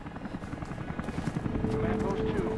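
A helicopter in Rise of the Tomb Raider whirs steadily throughout, its rotor thrum growing louder and closer toward the end, with game dialogue layered over it.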